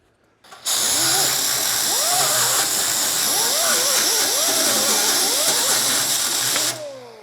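A cut-off wheel power tool grinds into the steel bed of a 1973–1979 Ford F100 truck, a loud, steady, hissing abrasive roar whose motor whine dips and rises as it bites, running continuously for about six seconds.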